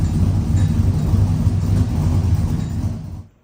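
A truck engine fitted with Flashark Racing stainless headers and a cold air intake idles with a deep, steady, throaty rumble up close, then cuts off abruptly at the end.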